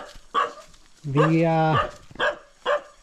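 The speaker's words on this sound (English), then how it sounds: "Always a barking dog." A village dog barks in short bursts on a rural property in Sulawesi, Indonesia, with one longer, tonal bark or howl in the middle, fairly close, while a person talks nearby.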